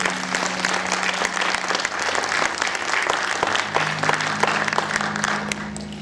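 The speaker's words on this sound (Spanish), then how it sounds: "¿Por qué no le aplaudimos a Jesucristo en esta noche?" A church congregation applauds steadily throughout, a dense, continuous wash of clapping from a sizable crowd with a faint sustained tone underneath.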